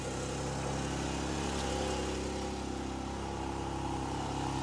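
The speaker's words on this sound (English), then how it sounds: "Let's listen to the idle from outside the car." A Porsche 718 Spyder RS flat-six engine idling, heard from outside the car, a steady low rumbling hum with an even mechanical drone, close and continuous with no talking.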